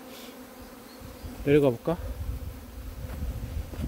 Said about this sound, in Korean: 여기도 말벌이 많아요.